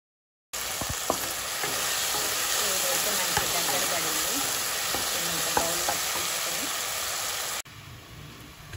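Pieces frying in a pan for a quick sweet, a continuous loud sizzle with occasional pops and stirring scrapes, which drops off near the end; a voice talks at times over the sizzle.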